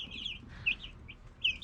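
Young meat chickens cluck in short, bright bursts over a low, steady farmyard hum, several birds calling intermittently at moderate distance with no voices.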